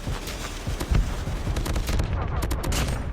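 Gunfire in the mobile shooter Call of Duty Mobile, with rapid automatic bursts from rifles such as the M4 and Type 25, loud and dense, crackling continuously with sharp individual shots toward the end.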